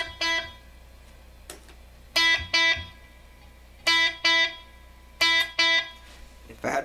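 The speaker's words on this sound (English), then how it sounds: "feedback set to 0 just gives you one echo note" An electric guitar picks notes through a delay effect with feedback at zero, each note followed by exactly one echo, giving evenly spaced note-and-echo pairs for a U2 'Where the Streets Have No Name' part.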